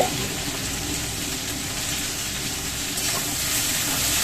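Food frying in a pan at home, a dense, even sizzle that stays loud and close for the whole stretch, with no voices.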